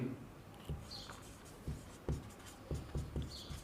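Handwriting during a geography lesson in Hindi, a pen or chalk making several short scratching strokes in an irregular rhythm, faint and close, with no talk.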